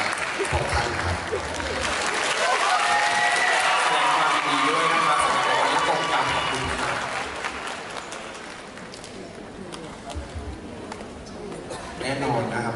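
Audience applause fills an awards ceremony hall at the Komchadluek Awards, a sustained broad wash of clapping that swells and then tapers, with voices and crowd chatter mixed in.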